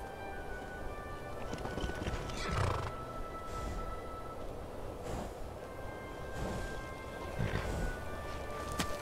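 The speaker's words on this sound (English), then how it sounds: "Where the hell my horse?" A horse neighs and its hooves clip-clop steadily nearby, with several whinnies rising over a constant noisy outdoor background and no talking.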